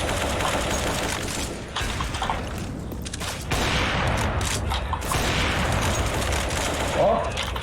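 Grenade blast and gunfire in CS:GO, a dense, loud run of shots and bursts that keeps going with little pause, and voices talk over it.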